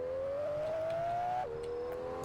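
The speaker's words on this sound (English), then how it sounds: "created cars with their actual startups and engines that sound better than the LFA" A car engine in the game Wayfort holds a steady high whine as revs climb slowly, then drops in pitch abruptly as if shifting gear, loud and up close with no talk.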